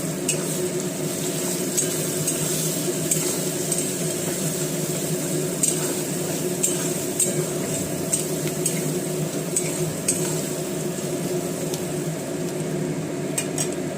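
Onions fry with turmeric in a pan, a steady loud sizzle and hiss running without a break, with occasional light scrapes and clinks of a utensil stirring against the pan.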